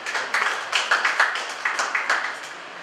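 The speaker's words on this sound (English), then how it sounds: "Can you give them a round of applause, please?" An audience at the Nigeria Diaspora ICT Conference applauds with dense, steady clapping that keeps a pulsing rhythm, moderately loud and unbroken for nearly three seconds.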